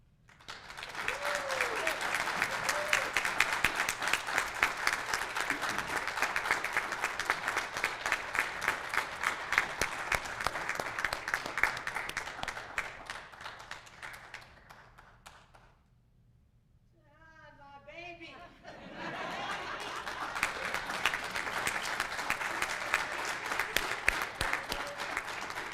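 Sustained audience applause at a graduation ceremony, a dense clapping crowd that dies down briefly before swelling again, with a few voices heard in the lull.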